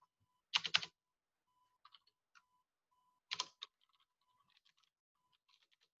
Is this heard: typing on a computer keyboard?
yes